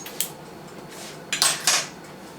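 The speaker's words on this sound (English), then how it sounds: "I'm going to put this over here in the oven" A baking dish slid into a home oven: a few short, faint metallic clinks and scrapes of pan and rack in a quiet kitchen.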